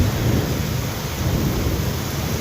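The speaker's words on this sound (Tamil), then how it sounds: "சரியான மழை, சரியான மின்னல்." Heavy rain and thunder from lightning in Vagamon, Kerala, a dense, loud continuous roar of downpour with deep rumbling underneath, no voices.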